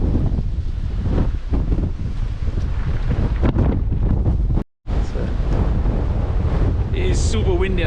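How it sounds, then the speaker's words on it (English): Strong wind gusts buffet the microphone on an exposed hillside at a Punic burial site in Tunisia, roaring steadily with a brief drop-out midway, while a voice talks underneath. "It is super windy, and I don't want to end up in one of these graves."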